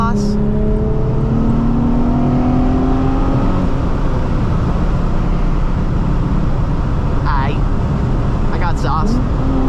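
Nissan 350Z engine revving with an aggressive, gurgling exhaust note, loud and close, a steady low rumble running throughout with brief higher bursts near the end.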